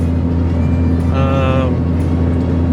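Steady heavy engine drone and road rumble inside a third-generation Cummins diesel truck climbing a steep highway grade at about 60 mph on cruise control, constant and loud, with a brief tonal whine rising in the middle.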